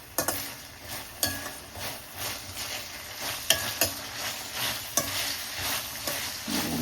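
Dried shrimp fry in a pan with a continuous crisp sizzle, punctuated by regular clinks and scrapes of a spatula stirring them, and no one speaks.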